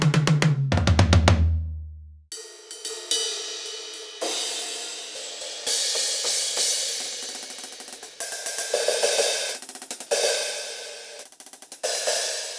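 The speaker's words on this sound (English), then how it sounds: "the rest of the kit at the minute is pretty much just an acoustic style kit," A Roland TD-50 electronic kit set up as an acoustic-style drum kit with dampened toms: a few deep, short tom thuds, then steady hi-hat and cymbal-heavy playing with kick and snare accents, close and moderately loud.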